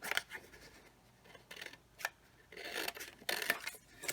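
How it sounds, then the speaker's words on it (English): Scissors snipping through folded cardboard along traced lines, a series of short crisp cuts in an uneven rhythm, close and fairly quiet with no talking. "I'm going to get my scissors out,"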